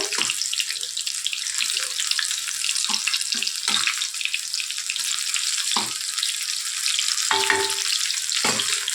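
Meal maker chunks deep-frying in oil over medium flame for meal maker 65, a loud dense crackling bubble that runs unbroken, with a few sharper pops and stirs near the end.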